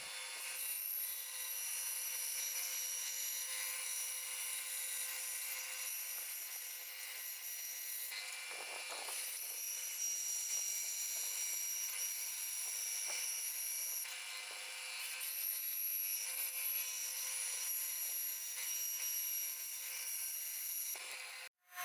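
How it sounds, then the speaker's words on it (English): Bandsaw cutting bone slabs for replacement knife handles on a Schrade Walden Mariner's knife, a steady high-pitched whine running continuously with brief dips as the cut changes, close and alone without talk. "I'm using a block of wood to push the bone slabs through that bandsaw"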